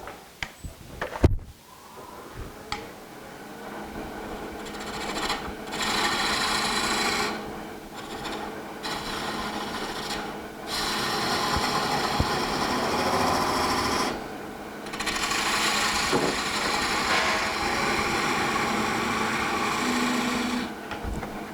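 A wood lathe turns a spindle while a cutting tool is pressed against the spinning wood, producing a sustained, fairly loud scraping hum. It starts after a few sharp knocks and breaks briefly several times as the tool lifts away.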